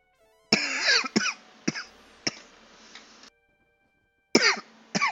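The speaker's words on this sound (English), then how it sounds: "I'm sorry about the coughing." Several sharp coughs from one person at close range, spaced irregularly across a few seconds with a quiet pause before a final pair of coughs.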